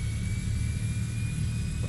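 A Transall C-160 turboprop engine runs steadily after startup in Flight Simulator 2020, giving a continuous low droning rumble with a thin high whine held throughout, heard alone without talk.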